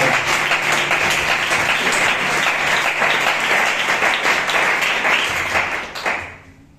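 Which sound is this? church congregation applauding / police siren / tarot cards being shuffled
church congregation applauding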